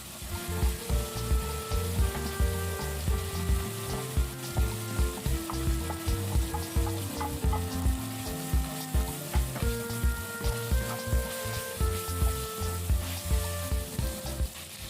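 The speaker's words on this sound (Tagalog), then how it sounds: "igisa na po natin ang ating bawang at sibuyas" Garlic and onion sauté in a hot pan beside dark soy sauce, frying with a steady loud sizzle and repeated rhythmic stirring scrapes throughout, no voices.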